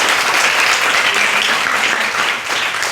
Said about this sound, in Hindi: सब लोग ताली बजा दें।